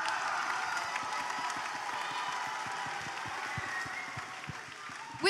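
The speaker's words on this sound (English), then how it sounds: "Another round of applause, please." An audience at a school house music competition claps steadily, a dense patter of many hands at moderate distance, continuing throughout without cheering.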